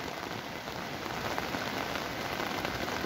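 Heavy rain from Hurricane John pouring steadily on surfaces outdoors, a dense continuous hiss with scattered drop patter, loud and close with no one speaking.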